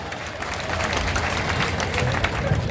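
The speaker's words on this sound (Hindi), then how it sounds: "इस पर जोर से ताली बजाओ ना" Crowd applauding at an election campaign rally in Budhni, a steady spread of clapping under a public-address hum, with a voice faintly audible through it.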